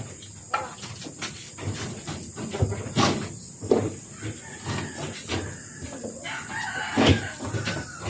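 Native chickens on a farm crow and cluck in a series of sharp calls spread over several seconds, close by, with small clatters between the calls and no talk.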